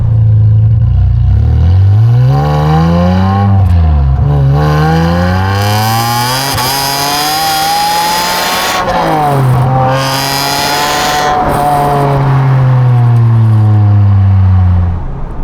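A car engine on its standard exhaust revs hard several times, rising and falling in loud close sweeps, then settles to idle between runs with no talking.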